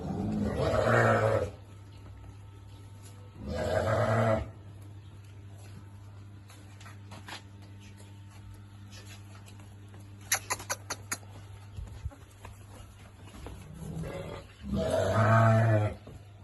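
Several loud bleats from sheep close by, spaced apart with quieter pauses, plus a few faint clicks and rustles in between.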